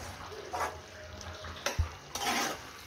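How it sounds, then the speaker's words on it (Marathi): Okra curry, bhendi rassa, simmering in a pan, giving a faint soft bubbling and sizzle with a few light clinks of a utensil against the pan, and no voices over it. "तुम्ही बघू शकता इथं मस्त असं आपल्या भेंडीला उकळे आलेले आहे"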